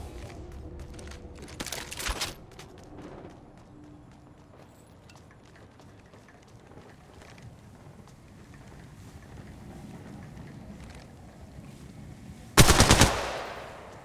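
Automatic weapon fire in the battle royale game Apex Legends Mobile: a short rapid burst near the start, a long quiet stretch of low wind-like ambience, then a loud, dense burst close up near the end.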